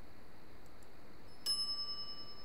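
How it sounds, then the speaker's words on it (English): A shop counter bell in The Secret of Monkey Island gives a single clear ding that rings on and fades over about a second, over a quiet steady background hum. "some idiot's already ringing that stupid bell"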